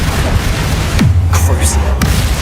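In Hogwarts Legacy, a Confringo fire spell goes off with a low, booming blast that falls in pitch and then rumbles. A dense magical whoosh and sparkle sound over it, and other effects follow soon after.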